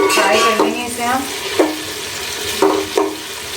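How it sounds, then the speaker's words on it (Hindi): Sliced onions fry and brown in oil in a pan for a vegetable pulao, giving a steady, moderate sizzle up close, broken by a few sharper scrapes and stirring knocks. "फ्राई कर लेंगे इसे हम"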